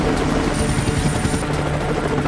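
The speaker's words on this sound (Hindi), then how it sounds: "समंदर पर गश्त करते हेलीकॉप्टर" A navy helicopter patrolling over the sea gives a steady, throbbing rotor drone that fills the scene continuously, loud and fairly close, with a faint high whine riding above it.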